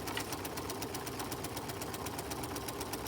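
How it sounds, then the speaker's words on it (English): A sewing machine stitches a pocket in place, its needle pounding in a fast, even rhythm of rapid regular clicks, steady and close throughout. "as we're sewing this, we are securing that pocket in there."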